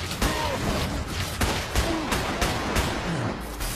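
Pistol fire in Guild Wars 2, a quick run of sharp gunshots popping at irregular intervals over a dense bed of game combat effects and music, close and fairly loud throughout.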